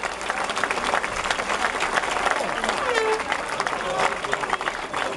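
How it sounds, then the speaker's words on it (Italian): Audience applause at a ceremony honoring an Olympic champion, steady dense clapping filling the hall at moderate volume with a faint voice or crowd murmur mixed in. "magari con un applauso di sottofondo per questo momento così sentito"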